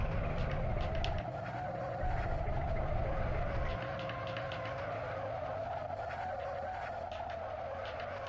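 A Mazda MX-5 races in the Assetto Corsa video game, its engine droning steadily while tires skid and squeal continuously throughout, loud and close with no talking.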